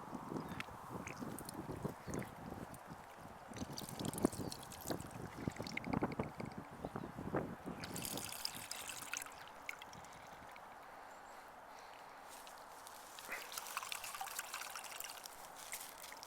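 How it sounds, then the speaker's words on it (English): Water from a TravelTap filter bottle trickles and pours into a cooking pot outdoors, a faint, uneven splashing stream with a breezy background and varying flow. "Let's fill up my pot for cooking with."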